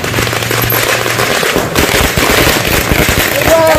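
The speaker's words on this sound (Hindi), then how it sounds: "कहीं आतिशबाजी हो रही थी" Rapid crackling bursts of firecrackers and fireworks pop continuously over a busy, noisy crowd at Gandhi Maidan in Patna, Bihar, with a brief low hum early on.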